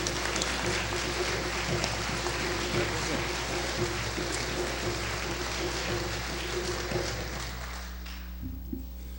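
Audience at an organizing event giving a warm round of applause for a speaker, a broad, sustained clatter of many hands over a low steady hum, fading out toward the end.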